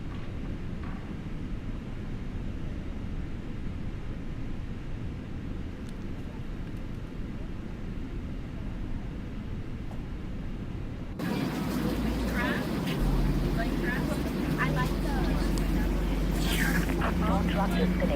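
Engine 1 of an airliner starts on the ground: a low steady rumble and hiss, then a sudden louder, broader roar as the engine spools up, with cockpit talk over it.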